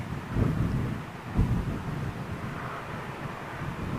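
A Hop! airline ATR turboprop passes overhead, a steady broad roar that swells and holds for several seconds, mixed with gusty wind buffeting the microphone; no one speaks.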